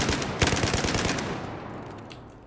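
A U-100 MK5 machine gun fires a quick burst in Battlefield 4, a loud rapid string of close shots lasting about a second and a half, then trailing off into a fading echo.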